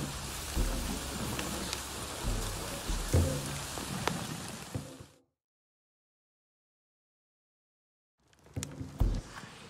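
Heavy rain falls in the video game Avatar: Frontiers of Pandora as a steady hissing downpour with a few sharper cracks. It cuts to silence midway, then returns briefly near the end.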